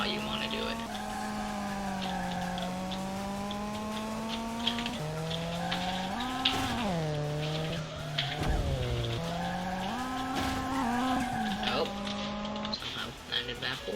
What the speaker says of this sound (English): Oh, so I got a drift there. That's how you want to do it.